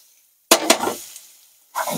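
Tomatoes and Kashmiri chilli drop into hot oil with a sudden loud sizzle that bursts in twice and fades over half a second, then a second sizzle flares up after a short quiet gap.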